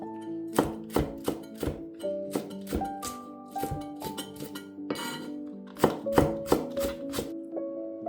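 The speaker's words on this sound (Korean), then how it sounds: "대파 반 뿌리를 어슷썰게 해주세요." Half a stalk of green onion sliced diagonally with a kitchen knife on a cutting board, a quick series of crisp, close knocks in uneven bursts, alone without speech.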